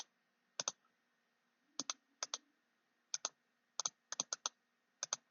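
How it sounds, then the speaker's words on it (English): A computer keyboard typing test data: about a dozen crisp, close keystroke clicks in scattered short clusters with pauses between, quiet and alone with no talking. "I will now just type in some test"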